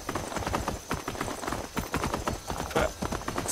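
Horse hooves clip-clop steadily in Skyrim, a quick, even trot of close, crisp hoof strikes with no talk over them.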